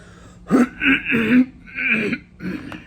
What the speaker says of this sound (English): Sorry if I'm coughing a lot.